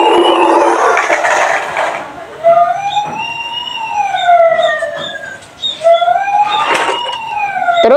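A white toy ambulance with red trim plays a wailing electronic siren that rises and falls repeatedly, loud and close, with a brief louder burst of noise at the start.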